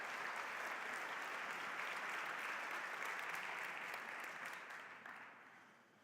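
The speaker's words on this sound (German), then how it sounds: "Applaus." Sustained applause from a conference audience, loud and dense for several seconds before thinning out and fading toward the end.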